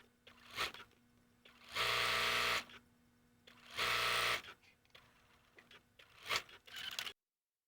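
A sewing machine piecing quilt rows runs in two long, steady bursts of close, loud stitching, framed by quieter fabric handling and brief shorter runs.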